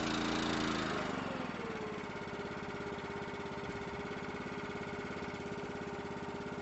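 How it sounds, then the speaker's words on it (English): Small engine on an Anderson IFX-660 bale wrapper idling steadily and close by, a loud, even mechanical hum with a busier burst in the first second before it settles. "If you need a little more RPM, that's going to idle your engine up."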